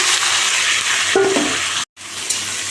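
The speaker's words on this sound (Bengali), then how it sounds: "আমি এবার এঁচড়গুলো ভেজে দেবো" Young jackfruit pieces fry in hot oil with a steady, close sizzle and bubbling hiss, a brief stirring clatter partway through and a momentary cut-out near the end.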